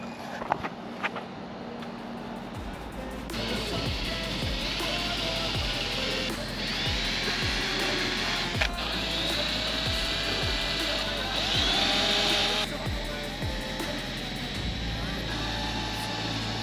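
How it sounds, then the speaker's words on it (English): A power drill whines steadily, its pitch rising and falling as it bores holes in repeated passes for a large rear wing on a Toyota Supra, with background music and occasional clicks throughout. "So I feel so bad drilling those holes."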